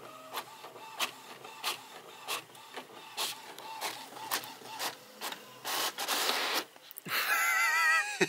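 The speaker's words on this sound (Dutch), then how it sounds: "Altijd als er wat geprint wordt, dan vindt Sok dat geweldig." A printer runs through a print job at home, its mechanism clattering in a steady series of regular strokes before a louder whirring burst at the end as the page feeds out.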